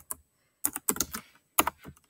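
Typing on a keyboard to enter a response in a lesson app, close and clear keystroke bursts in quick clusters separated by short pauses, alone in a quiet room.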